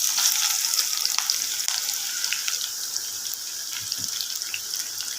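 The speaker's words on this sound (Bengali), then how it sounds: "আমরা গরম তেল এখন পেঁয়াজটা দিয়ে দিচ্ছি" Chopped onions hit hot oil in a pan for mutton curry, giving a loud, close sizzle that crackles and spits steadily, with a few sharp pops and stirring noises and no talking.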